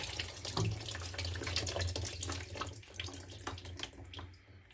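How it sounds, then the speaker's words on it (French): Tap water running steadily into a bathroom washbasin to rinse out the sink siphon, a close, continuous splashing rush with small gurgles throughout. "Une fois rincé, hein, on peut couper l'eau."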